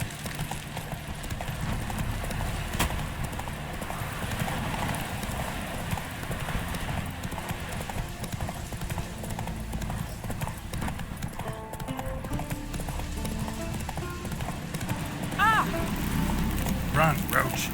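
Roach the horse gallops in The Witcher 3, a steady run of hoof clip-clop over continuous game ambience, close and fairly loud throughout, with a brief whinny near the end.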